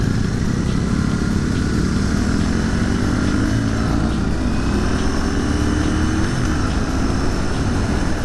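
Royal Enfield motorcycle ridden at speed on a demo tour, a loud continuous engine drone with rising pitch sweeps as it accelerates, mixed with rushing wind noise throughout.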